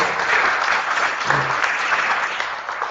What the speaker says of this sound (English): Let's give Melva a round of applause